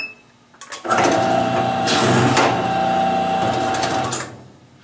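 An electric 450VS paper cutter hums loudly and steadily for about three seconds as its backgauge travels to a new position, with a faint tone before the motor starts and after it stops.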